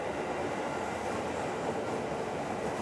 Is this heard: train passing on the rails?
yes